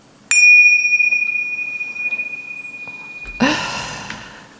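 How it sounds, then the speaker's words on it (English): A single bright bell strike rings out and sustains a long, steady tone, then a burst of louder clattering noise cuts in near the end. "Where are the bells? The bells, the bells."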